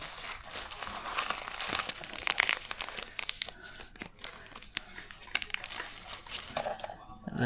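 A plastic bag with a DJI sticker, holding a wireless microphone kit, is opened with close, continuous crinkling and sharp rustles, while a voice is faintly present.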